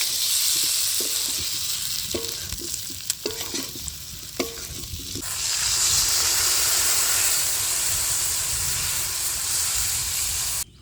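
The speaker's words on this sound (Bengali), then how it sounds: "এবার ডিম আলু দেবো দিয়ে একটু নাড়ি চাড়ি নিই তারপরে জল দিয়ে দেবো" Egg and potato stirred into frying spices in a pan make a loud, close sizzle with a few scraping knocks, then a surge of hissing steam once water is poured in, continuing steadily until the end.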